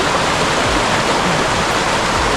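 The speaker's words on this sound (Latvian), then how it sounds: "burbuļojošiem straukumiem" A bubbling mountain stream on a hiking route in Khevsureti, Georgia, rushes in a steady, loud, close wash of water with no let-up and no voices.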